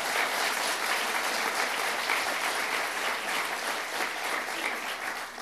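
A crowd breaks into sustained applause at a political event honoring a New York clean-energy leader, a dense, even clatter of many hands that fills the whole stretch at steady loudness.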